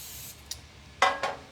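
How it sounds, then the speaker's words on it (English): Nonstick cooking spray hisses into a pan in short bursts, a longer spray followed by a brief pause and two quick, sharp close-up spritzes. "you can just spray it with some nonstick spray"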